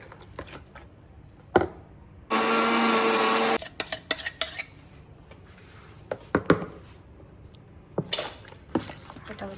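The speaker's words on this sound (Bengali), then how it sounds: "আরও একটা ব্লেন্ডার বাকি।" A kitchen blender whirs loudly for just over a second while making a spice paste with ginger. Scattered clinks of bowls, spoons and utensils surround it.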